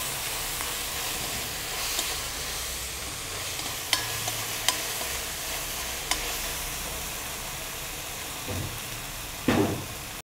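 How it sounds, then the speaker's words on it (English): Ginger garlic paste and cauliflower sauté in a hot pan, giving a steady soft sizzle with a few sharp clicks and scrapes from stirring, and a louder stir toward the end; no talking. "Saute it nicely."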